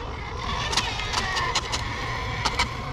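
An MJX 7303 Citroen RC car is driven quickly, its electric motor giving a steady whine with several short sharp ticks and rattles, fairly close.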